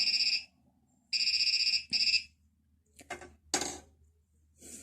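An Arduino-built metal detector tested on silver gives its alert: three bright electronic beeps, then a few clattering knocks as metal is handled, then one more beep at the end.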